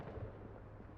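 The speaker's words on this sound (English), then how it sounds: "She hears gunshots." Gunshots in the video game Project Zomboid at Fort Redstone, a faint muffled burst of distant bangs and rumble over about a second.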